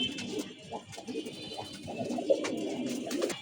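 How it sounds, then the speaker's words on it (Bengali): A pair of Mushaldom pigeons coos softly and continuously, a low burbling from birds close by, with faint background murmur underneath. "তো সানমুন এক জোড়া মুসলদম কবুতর হাত বদল করবে।"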